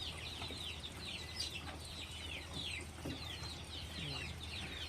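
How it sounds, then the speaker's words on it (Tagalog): Farm chickens cluck softly while resting in the shade on a hot day, faint and distant murmurs over a steady background hum. "Pati mga manok natin guys, nandito sa lilim oh"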